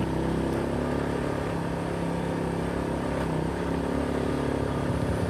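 A Honda Supra motorcycle, freshly rebuilt after an engine overhaul, drones steadily and close while riding the alternative road from Ungaran toward Boja, its engine hum blended with wind and road rumble at a constant level.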